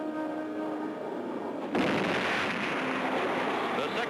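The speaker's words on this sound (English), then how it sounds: "the third stage rockets light up" The third-stage rockets of a cartoon spacecraft ignite with a sudden roaring blast that cuts in over a lower hum and keeps up as a steady, loud rumble.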